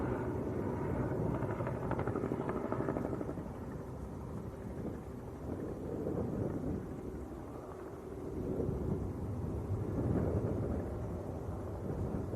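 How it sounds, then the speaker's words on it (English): A Robinson R44 helicopter flies past near an airport, giving a steady, broad rotor-and-engine rumble that swells and eases slightly over about twelve seconds, with no voices. "R44 going past us at the moment."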